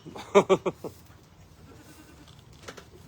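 Baby goats bleat within a herd in several rapid close calls at the start, then a lone fainter bleat later over quiet farmyard background.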